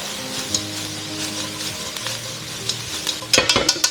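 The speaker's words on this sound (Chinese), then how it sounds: "把我们炸好的脆皮豆腐放进来，来这个时候开一下大火，来翻炒" Crispy deep-fried tofu stir-fried in a wok over high heat, a steady close sizzle with scraping spatula strokes, ending in a burst of sharp clatters and crackles.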